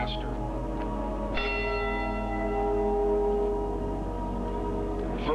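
A memorial bell rings out for the lost crew of the Edmund Fitzgerald, one strong strike near 1.4 seconds leaving a long, shimmering hum that hangs and slowly fades, with no voices over it.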